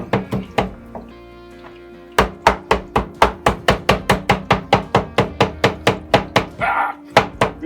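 Floured steak being pounded with a tenderizer, a fast, regular series of loud close thuds in a steady rhythm after a few scattered knocks.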